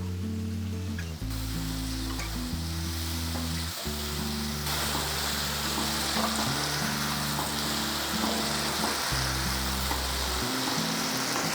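Masala with tomato and turmeric sizzles steadily in a pan for fish curry, a constant hissing fry under a looping low background melody.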